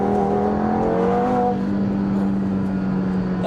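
An Audi TT RS engine stuck in third gear holds a steady, droning rev, loud and close, with a sustained tone that eases slightly partway through and no talking.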